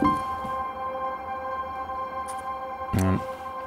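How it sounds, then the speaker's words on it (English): A DAWless synth jam plays a sustained tone through a Color Copy delay. Faint repeats fade into a noisy background and a brief burst of echoes comes near the end. "The other delay I've got on there is color copy"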